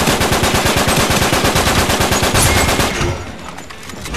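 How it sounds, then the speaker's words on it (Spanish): Rapid automatic gunfire rattles in loud, close bursts during an online match of the video game Uncharted 3, a dense staccato stream that cuts off near the end, leaving a quieter tail. "¿Visteis cómo llegaron sus disparos? Llegaron a ráfagas"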